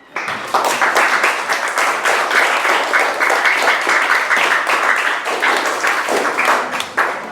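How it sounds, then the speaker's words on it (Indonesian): A classroom of students applauds a study group called to the front, loud, dense clapping starting after a brief pause and continuing steadily throughout with slight swells. "Ya, silakan tepuk tangan."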